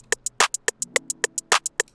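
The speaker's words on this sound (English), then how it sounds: "we're going to have a really basic hi-hat clap pattern that's going to sound like this" A basic programmed beat of hi-hats and claps plays in a steady, even rhythm, crisp bright ticks alternating with a couple of louder, fuller clap hits, close and dry with nothing else heard.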